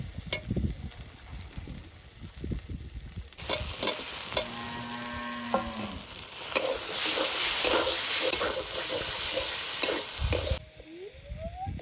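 Tomatoes dropped into spices frying in a pan, a loud burst of sizzling and hissing that swells when they go in, with scraping and stirring throughout, then drops back to a softer fry.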